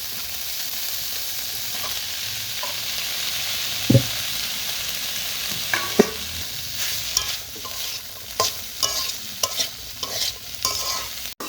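Marinated chicken with capsicum, sausage and onion sizzling in a frying pan for a homemade pizza topping, a steady loud hiss broken by repeated scraping stirs and clinks.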